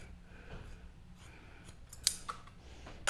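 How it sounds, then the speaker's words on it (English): Scissors snipping through fabric while trimming a saddle swell bag, a few sharp close cuts at the end following soft handling noise, no talking. "I'm going to take a pair of scissors and I'm going to cut above our straight line"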